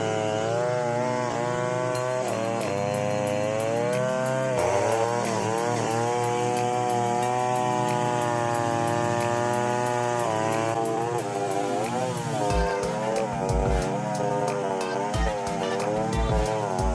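A chainsaw roars steadily at high revs while cutting through the thick trunk of a giant tree during logging, loud and continuous with its pitch wavering as the chain bites, bogging briefly near the end.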